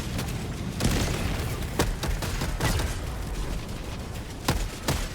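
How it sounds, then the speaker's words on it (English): Eagle strafing run gunfire in the video game Helldivers 2, a dense crackling barrage of shots and booms with sharp repeated bursts across several seconds, fairly loud throughout. "Let's get another strafing run out."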